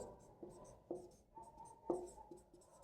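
Pen scratching on paper while working out a banking math exercise, heard as soft close strokes with small taps and scrapes in an uneven rhythm, with no talking.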